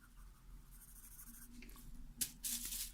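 Pencil drawing a cat on paper, soft faint scratching strokes that grow into a few brisker, louder scribbles near the end.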